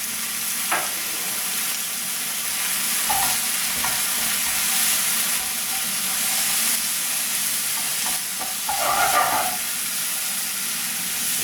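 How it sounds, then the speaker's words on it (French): Button mushrooms and vegetables sizzle steadily in a pan for a fricassée de poulet, with a constant hiss broken by a few soft scrapes and clinks of stirring, including a louder clatter near the end. No one speaks. "Là, je remue jusqu'à ce qu'ils aient relâché un peu de leur eau."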